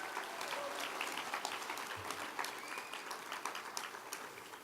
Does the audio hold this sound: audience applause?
yes